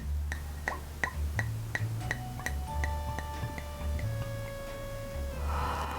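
Thick, heavy Gyeongtakju makgeolli rice wine glugs out of a bottle into a cup in a quick, rhythmic run of hollow gulps that speeds up and then smooths into a steadier pour, close and fairly clear.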